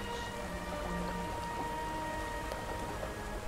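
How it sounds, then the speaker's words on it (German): Babbling stream in the video game Gothic 3, a steady, unbroken wash of trickling water that holds at an even level throughout, with no voices. "Doch, das ist doch der Bach."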